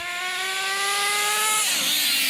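Kyosho Inferno ST nitro RC car engine held near three-quarter to full throttle, a loud, steady high-pitched buzzing whine close by that drops off sharply near the end.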